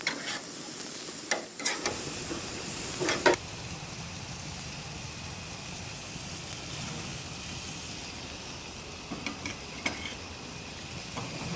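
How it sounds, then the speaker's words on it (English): Onions and vegetables sauté in a pan for a cheese steak, a steady moderate sizzle with occasional spatula taps and stirring clatter throughout. "we're also going to saute our vegetables so that the onions get clarified"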